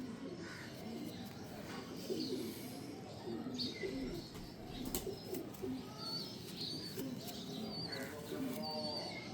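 Pigeons cooing at a show of dubb-type and golden pigeons, with repeated soft low coos and chirps close by, mixed with background bird calls and someone talking over them.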